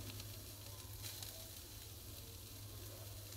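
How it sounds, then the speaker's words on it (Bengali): Chopped onion frying in a pan on the stove, a faint steady sizzle and hiss, quiet and unbroken. "পেঁয়াজ কুচিটাকে হালকা একটু ভেজে নিব"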